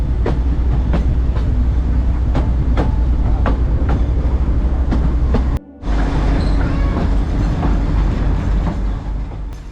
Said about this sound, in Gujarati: આ સફરમાં તમે જોઈ રહ્યા છો નદીઓ અને નાળાઓ ઉપર થઈને આ પસાર થતી ટ્રેન તમને જોવા મળશે